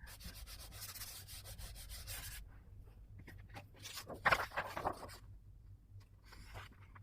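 Dried glue stick is rubbed off a craft mat in a quiet room, giving soft, close scratchy strokes in quick bursts, with a brief louder scrape partway through.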